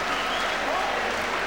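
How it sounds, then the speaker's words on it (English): A boxing crowd on its feet applauding after a fight, dense continuous clapping filling the hall, with a commentator's voice over it. "Everybody is on their feet applauding."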